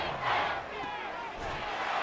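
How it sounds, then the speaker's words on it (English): Stadium crowd noise from the football video game Madden NFL 24, a steady dense roar of cheering fans that swells and dips slightly, heard at a distance and filling the whole stretch. "this crowd making it hard to hear"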